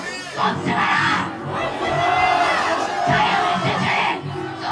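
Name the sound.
crowd chanting a protest slogan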